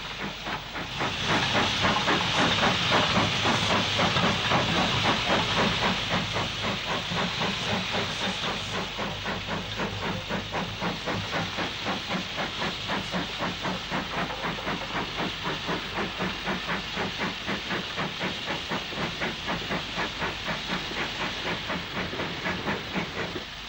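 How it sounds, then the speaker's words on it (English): Steam locomotive pulling a train away from Bushbury sidings on the old Grand Junction line, loud hissing steam giving way to rapid, regular exhaust chuffs that stay close and steady throughout. "this same train steams away from Bushbury sidings on the old Grand Junction line"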